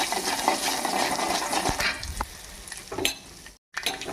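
Mustard seeds, chana dal and cumin sizzle and crackle in hot oil, a close busy fry with small pops and a brief scrape of stirring.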